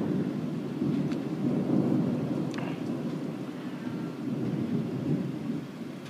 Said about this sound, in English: It is raining so hard out there.